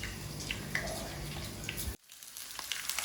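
Tapioca fish cakes sizzling in hot oil, a steady crackling fry with small pops that cuts off abruptly partway, then fainter frying continues.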